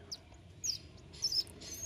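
Pigeon chicks being fed give faint, thin high squeaks, a few brief chirps spaced unevenly against a quiet background.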